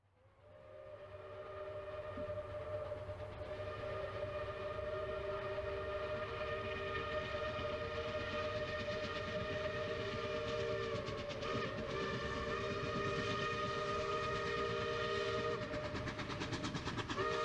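A steam locomotive whistle sounds continuously with steady harmonic tones over the rumble of the passing Pennsylvania Railroad engine 1361, loud and sustained throughout.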